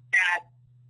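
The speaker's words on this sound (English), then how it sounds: "Sorry, there's some weird noise there. That's my phone." A phone gives one short, bright electronic tone during an academic colloquium talk. It is close and fairly loud against a low steady hum.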